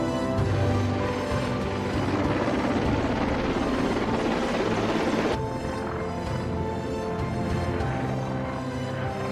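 A military helicopter's rotor thrum and turbine whine hold steady and loud throughout, with a brief shift in tone partway through, during a strike on military targets in Ukraine.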